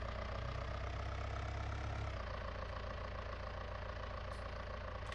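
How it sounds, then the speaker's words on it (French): A farm tractor idles in Farming Simulator 19 with a steady, close mechanical drone. A deep low throb drops away partway through while the engine hum continues evenly, with no talk. "On va éteindre le tracteur, ouais, on va l'éteindre là pour le moment"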